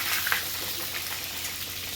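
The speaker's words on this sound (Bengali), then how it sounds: "আলুগুলো এবার ভালো করে ভেজে নেব।" Potato pieces fry steadily in a pan of oil for a vegetarian jackfruit curry, a soft, even sizzle up close with a small clink near the start and no talking.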